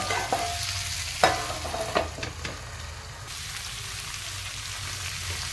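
Chicken frying in butter in a covered pan gives a steady, moderate sizzle, broken by a few sharp clinks and taps of the lid or utensil in the first seconds. No one speaks.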